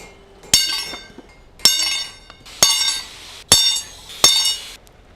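A center punch struck by a hammer rings out five times on hot steel at the anvil, each a sharp bright metallic clink with a brief ringing decay, spaced about a second apart and close.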